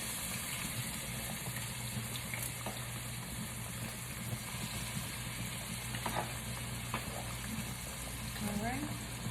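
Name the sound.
onions and peppers going into the cooking pan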